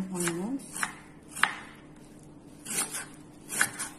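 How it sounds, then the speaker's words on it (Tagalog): A knife chops a medium onion on a board with a handful of sharp, separate cuts spaced at uneven intervals. Someone speaks briefly at the start. "Mag-cut lang po ako ng onions."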